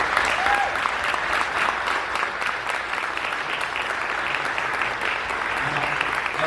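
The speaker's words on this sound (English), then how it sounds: "So please give them a round of applause." A full audience breaks into sustained applause at a community event, a dense, even wash of clapping that holds steady throughout without letting up.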